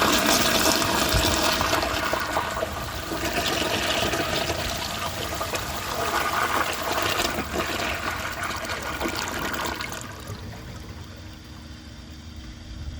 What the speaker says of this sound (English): let's see how it flushes with a dry bowl